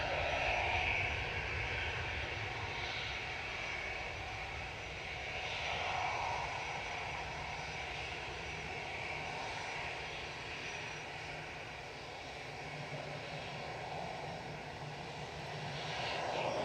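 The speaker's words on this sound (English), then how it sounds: "Lufthansa just arrived in the background." A Lufthansa jet airliner arriving at Manchester Airport gives a faint, distant engine rumble that swells and fades gently throughout, with no one speaking.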